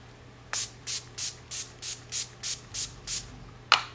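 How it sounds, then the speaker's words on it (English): Makeup setting spray released as a fine mist in a run of about nine short, evenly spaced hissing bursts close up, followed by one sharper click-and-spray at the end, all over a faint low hum. "So I am going to use the setting spray."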